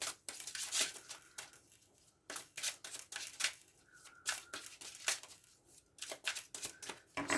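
Tarot cards shuffled by hand before drawing five, a quiet, close run of papery riffles and slides in irregular bursts with short pauses, no voice.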